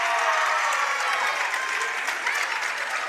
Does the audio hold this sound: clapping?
yes